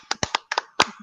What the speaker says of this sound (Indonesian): Bintangnya, tepuk tangannya mana?